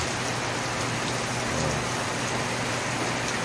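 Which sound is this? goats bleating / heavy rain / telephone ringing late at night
heavy rain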